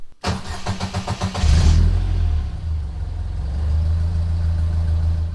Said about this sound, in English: start the engine just to allow the oil to warm